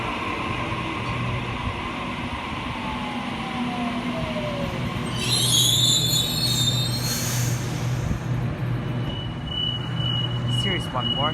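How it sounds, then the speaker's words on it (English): A Series 1 Waratah train, set A63, pulls away from Platform 2 on a Sydney Leppington service, with rising motor whine, wheel squeal and a steady rumble, and a platform announcement voice heard over it. "Series 1 Waratah Set A63 now departing Platform 2, Leppington service."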